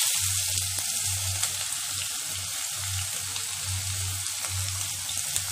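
Fennel seeds spluttering and sizzling in hot oil, a steady close frying hiss with scattered tiny pops and a low intermittent hum beneath; no voices.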